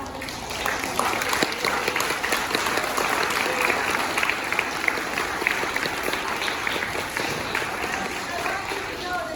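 An elementary school audience claps for second graders performing at a Black History Month event, a steady wash of applause with voices talking beneath it.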